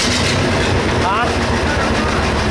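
A cold-started 4320 engine idles with a steady, loud, rumbling chug that fills the whole clip close to the mic.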